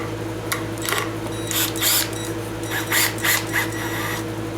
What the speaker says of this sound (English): I'm just getting some screws on the 2x4 here.